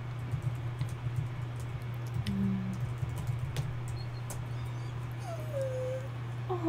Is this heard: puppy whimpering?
yes